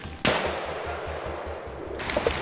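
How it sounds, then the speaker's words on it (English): Rapid bursts of automatic gunfire ring out in a forest during a wild boar hunt, a sharp crack opening a steady repeating rattle with echo among the trees; no voices. "Bursts of gunfire echoed through the trees."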